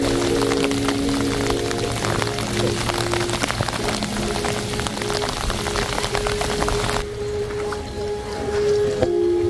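Rain falling outdoors near Grand Teton, a loud steady hiss of drops pattering on surfaces close by, continuous for several seconds before dropping suddenly to a quieter wash near the end.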